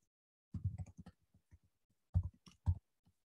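Mouse clicks as a flow is saved in Salesforce Flow, heard as two groups of short, close, dry clicks separated by a pause, in an otherwise quiet room.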